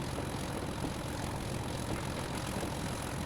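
A locomotive engine in the Train Sim World game labouring wide open up a steep 1-in-96 climb, a steady loud droning roar that holds unbroken throughout, with no talk.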